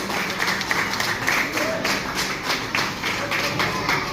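Audience clapping at a pre-K school graduation award, a steady patter of applause from many hands throughout, moderately loud and close, with a voice talking over it.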